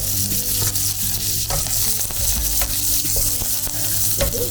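Curry leaves sizzle loudly and steadily in a pan of oil close up, with scattered clatters from stirring throughout.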